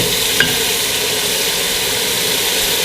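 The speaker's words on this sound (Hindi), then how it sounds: "अच्छी तरह इस मसाले के अंदर भूनेंगे हम।" Raw beef frying in masala in a pan gives a steady, loud sizzle and hiss with a faint low rumble, with no voices over it.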